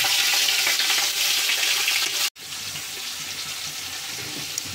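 Biryani masala frying in a pan gives a loud, steady sizzle close up that fills the whole stretch, broken only by a brief silent gap midway before resuming.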